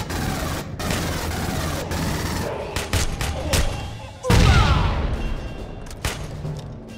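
Rapid gunfire bursts and heavy impacts fill a combat scene in the video game Aliens: Colonial Marines, with loud repeated shots, a booming thud midway and dense battle noise throughout.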